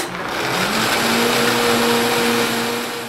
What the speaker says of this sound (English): And then all we do is blend it on high for about a minute.